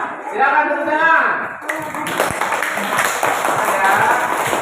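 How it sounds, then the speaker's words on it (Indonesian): A school class breaks into clapping right after a voice speaks. The brisk, dense clapping of many hands continues steadily to the end. "Nah, silakan tepuk tangan."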